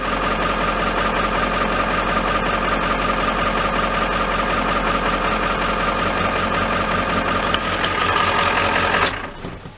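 A 1995 Ford F-350 with the 7.3L diesel, prone to hard starting, runs at idle up close with a loud, steady clattering rumble that cuts off abruptly near the end.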